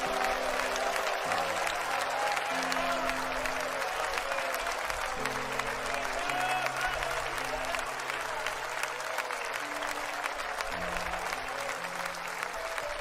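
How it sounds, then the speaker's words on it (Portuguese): Steady, dense applause from a large congregation at a church service continues throughout, with music playing underneath. "dê uma salva de palmas para Jesus"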